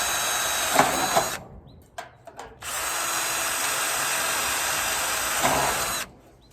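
A power drill bores holes in a PAAL Homes wall splicer, whirring loudly in two sustained bursts separated by a short pause with small knocks, then winding down.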